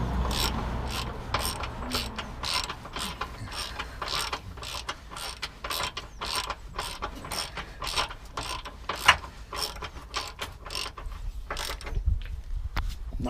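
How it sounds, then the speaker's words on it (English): A ratchet with an 18mm socket tightens a lower engine mount bolt on a Renault Megane Sport. It makes a steady run of evenly spaced, close clicks that lasts for more than ten seconds with no talking. "the bolt at the back is a 18mm socket, and again we just tighten this up."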